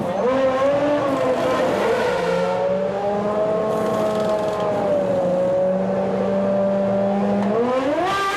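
Formula One race cars, Senna's and Schumacher's, entering the pits together: a continuous high-pitched engine whine that holds steady, dips slightly and climbs again at the end, loud and unbroken, with an engine droning beneath it.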